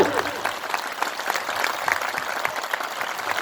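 A crowd at an outdoor political rally in Ghazipur claps to welcome guests, a sustained mass of hand claps with a voice speaking over it.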